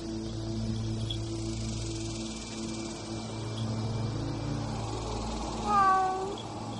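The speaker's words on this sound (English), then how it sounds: "Yuki, my cat." A cat gives one clear meow near the end over a steady background hum and hiss, in an anime film scene.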